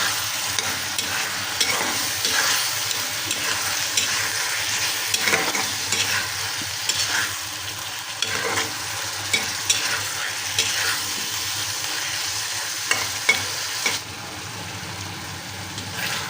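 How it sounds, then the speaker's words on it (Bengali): Potatoes frying and being stirred in a spice paste, a continuous close sizzle broken by regular scraping strokes of a spoon against the pan. "এখন আমি আলুগুলো একটু কষে নিব আগে,"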